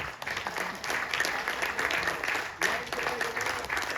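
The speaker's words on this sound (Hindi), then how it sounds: "एक जोरदार क्लैपिंग के साथ" Audience clapping at a company announcement event, a continuous crowd applause of many hands at moderate loudness, with a brief dip and renewed burst partway through and faint voices mixed in.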